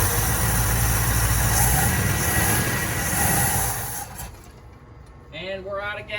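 A 1963 Mercury Monterey engine runs with a loud, steady roar, then cuts out about four seconds in. A voice is heard faintly in the quiet that follows.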